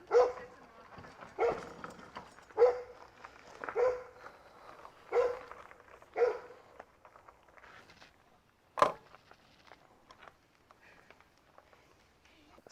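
A pack of dogs barks at a passing rider on a rail trail in Toronto, heard as a run of loud repeated barks at roughly one-second intervals that tapers off into faint scattered barking and outdoor noise.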